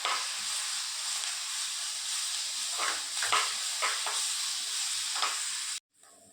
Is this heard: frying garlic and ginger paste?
yes